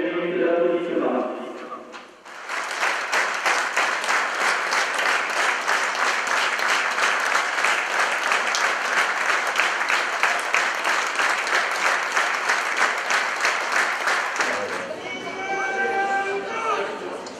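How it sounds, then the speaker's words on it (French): A stadium crowd at a football match holds a long, sustained round of applause in memory of a late friend, a dense, even roar of clapping that runs for many seconds between stretches of a broadcaster talking. "En sa mémoire, nous allons faire une minute d'applaudissements."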